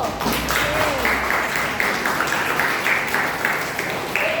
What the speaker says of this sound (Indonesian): Tepuk tangan untuk kelompok pro.